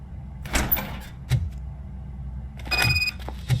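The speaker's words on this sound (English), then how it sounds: "Now let me get that door open for you." A door swings open in the RoboCop: Rogue City video game, with a mechanical clunk and slide followed by a brief whoosh, then a second burst of scraping movement near the end.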